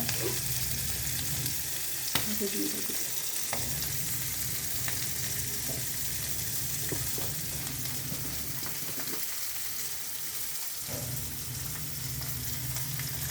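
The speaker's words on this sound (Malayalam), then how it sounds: "മത്തി ഇങ്ങനെ മൂത്തുകൊണ്ടിരിക്കുകയാണ്" Sardines fry in a pan with a constant dense sizzle and crackle, near and even, broken by a few brief scraping touches and no voices.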